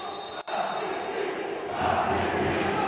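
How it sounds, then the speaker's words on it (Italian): Green-and-white Giovinazzo supporters shouting at a roller hockey match, a sustained crowd roar swelling louder toward the end, with a sharp knock near the start and an indoor arena echo. "Si fanno sentire le urla dei tifosi biancoverdi"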